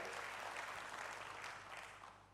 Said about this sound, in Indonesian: Berikan tepuk tangan bagi Tuhan, haleluya.